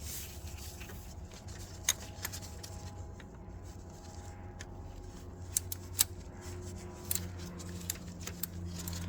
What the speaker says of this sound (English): One tool that makes this job easier is the use of a ratcheting wrench.